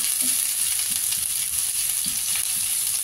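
Onions fry in a pan for spring rolls, a steady, close sizzle that holds unbroken from start to finish with no talking.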